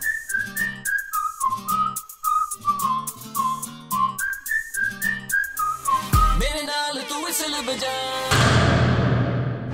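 A lively melody for a Bollywood song, adapted from a famous flute line, whistled in short rhythmic phrases, clear and close, with brief music-like bursts near the end and no talk.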